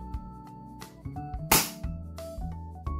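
A single sharp airsoft gun shot fired through a chronograph cracks out once midway, a brief loud burst over steady tonal background music.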